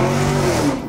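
A Chevrolet Camaro engine revs hard and steadily for under a second, loud and close, with a sustained droning tone and no voices over it.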